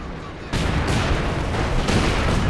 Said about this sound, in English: Drops light artillery barrage to try and stop the cap for as long as possible.